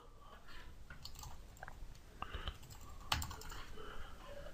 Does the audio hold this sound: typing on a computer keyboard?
yes